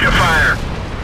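A tank cannon in the World of Tanks video game fires once: a loud, close boom with a brief ringing tail that fades quickly.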